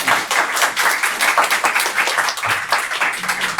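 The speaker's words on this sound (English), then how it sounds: "Should we give her a round of applause?" An audience applauds a member of the UN Committee on the Rights of the Child at an education-law panel, a steady mid-level patter of many hands clapping continuously with no voices.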